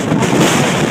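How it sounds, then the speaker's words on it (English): Strong wind gusts roar across the summit of Mt Washington in winter, a loud, broad, blustery rush buffeting the microphone close up. "it's the gusts that hit you every now and then"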